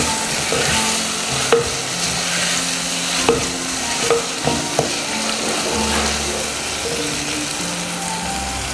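Sliced onions sauté in an oily pan for a sardine curry, giving off a continuous frying hiss while a spoon scrapes and stirs in uneven strokes, close and steady, with no voices.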